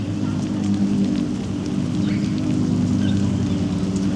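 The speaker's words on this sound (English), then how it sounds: "That rain is real pushing now." Heavy rain falls steadily and close during an outdoor car show in Guildhall Square, Londonderry, making a dense, continuous hiss and patter on the surfaces around.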